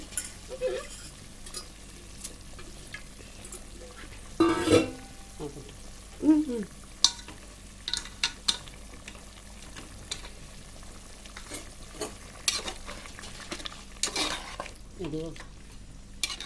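Rice stirred gently in ghee in a pot: quiet sizzling bed broken by sporadic scrapes and clinks of a spoon against metal, some louder knocks, close by, no talking.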